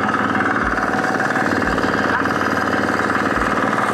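The engine of a mini four-wheel FTI2010DE tractor runs steadily as it breaks up soil, making a loud, close, rhythmic chugging with regular low thumps.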